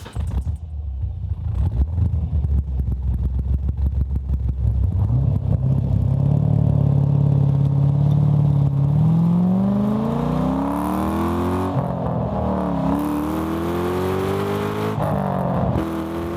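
A deep, throaty V8 engine in a Flying Miata MX-5 ND idles then revs up and down repeatedly, climbing in pitch with a rumbling, close-up roar.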